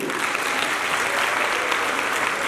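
Sustained, dense applause from a theatre audience at an Urdu stage play, steady and loud throughout with no talk over it.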